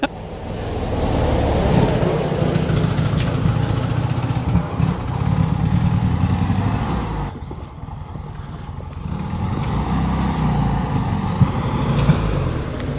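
The air-cooled engine of a 1970 Volkswagen Beetle drones loud and steady from inside the car on its first test drive, with a brief dip in the middle before it picks back up.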